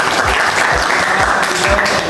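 An audience at a gender equality and safe migration workshop claps in a brief, steady burst of applause, close and fairly loud, with no talking over it.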